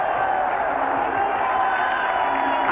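A football stadium crowd roars continuously after Romania scores against Scotland in a 1991 Euro 92 qualifier, a dense, sustained cheer with a commentator talking over it.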